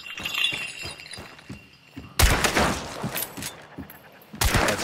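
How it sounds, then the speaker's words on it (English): Video game gunfire during long-distance shooting, with scattered soft impacts followed by two loud bursts of noisy shots and breaking glass, dense and close, with no talking. "Now let's do some long-distance shooting."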